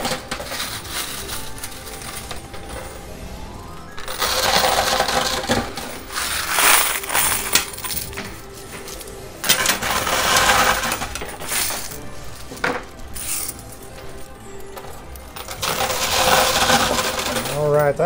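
Stacks of quarters clatter and jingle into a high limit coin pusher machine in repeated loud bursts of metallic clinking, separated by short quieter gaps, with some voices in the background.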